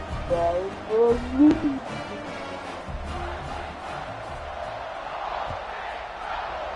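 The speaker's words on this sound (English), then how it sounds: "this crowd is feeling themselves after that last drive" A stadium crowd at a football game roars and cheers after a scoring drive, a broad steady wash of voices with a few louder whoops near the start, heard at a distance.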